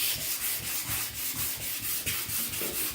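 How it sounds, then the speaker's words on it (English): A wooden cutting board is sanded by hand with soft sandpaper, a close, loud, rhythmic back-and-forth rasp of about a dozen strokes. "I'm just going to give it a little soft sand, just to remove any slight cuts that it has."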